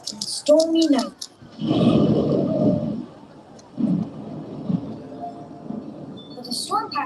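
Thunder-like rumbles played as a sound effect during a live Peanuts stage show at Knott's Berry Farm, heavy low roars in a couple of bursts, with higher tonal sounds and a voice around them.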